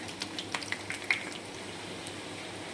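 Bondas frying in a pan of hot oil, a quiet, close bubbling sizzle with a few soft pops and crackles early on that settle into a faint steady hiss.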